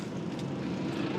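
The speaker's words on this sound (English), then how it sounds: "that's 7 or 8 bikes go flying past me just then" A group of seven or eight motorbikes flies past on a road in the Hunter Region near Wollombi and Cessnock, heard as a quiet, steady engine roar with no talking.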